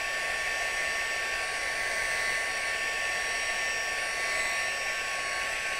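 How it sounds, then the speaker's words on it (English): A hair-dryer-style drying tool blows steadily over a painted card background, a constant loud whirring hiss with no break and no talk. "I'm just going to give the background a little dry first, because it does need to be a little drier before I do that"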